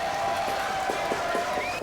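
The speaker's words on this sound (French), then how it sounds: "Applaudissements." Studio audience clapping on a French TV show, a fairly soft, steady patter of many hands with a few sharper claps, fading out at the very end.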